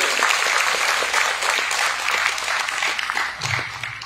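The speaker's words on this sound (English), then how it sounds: "Can we have another huge round of applause for all the teachers and parents here?" Audience applause at a college convocation ceremony, steady broadband clapping filling the hall, moderately loud and sustained throughout.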